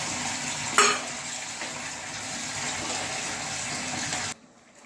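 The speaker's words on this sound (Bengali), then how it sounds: "এইবার আমি জলটা ঢেলে দেবো" Water gushes steadily into a simmering fish curry after the spices have been fried in oil, a continuous near pour with a brief louder splash early on, then cutting off abruptly near the end.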